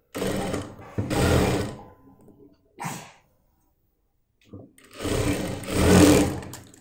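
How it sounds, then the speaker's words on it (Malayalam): A sewing machine stitches a folded seam with a half-inch allowance on a heavy Patiyala salwar, running in close, loud bursts separated by pauses, with a short whirr in between. "ഇതുപോലെ നേരിതായിട്ടൊന്ന് മടക്കി സ്റ്റിച്ച് ചെയ്തെടുക്കാം."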